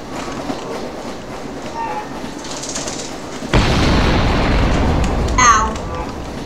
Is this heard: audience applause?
no